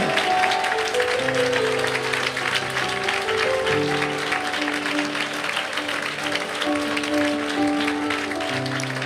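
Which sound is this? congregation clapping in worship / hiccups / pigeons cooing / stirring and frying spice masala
congregation clapping in worship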